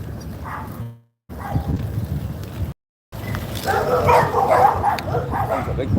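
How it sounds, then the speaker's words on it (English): Dogs and puppies near a yard bark and yip from a short distance, with wind and movement noise from an e-bike ride, broken by two brief dropouts. "Right here where the pups are actually."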